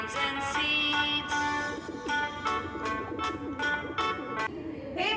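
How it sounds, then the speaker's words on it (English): A flock of pigeons coos in a series of soft, repeated calls, close and steady, with some brighter tonal notes over a faint background. "Can you see the flock of pigeons eating grains and seeds?"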